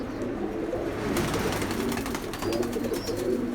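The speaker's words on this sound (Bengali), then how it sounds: "তো আরও কিছু কবুতর আছে সেগুলোও দেখবো আমরা" Caged pigeons coo in a steady low murmur, several birds overlapping close by in a loft, with a continuous soft purring rumble and a brief higher chirp near the end.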